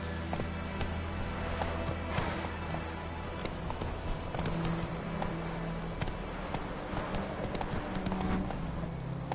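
Roach, the horse in The Witcher 3, gallops with steady rapid hoofbeats in a continuous clip-clop rhythm, moderately loud, with faint voice-like sounds in the background.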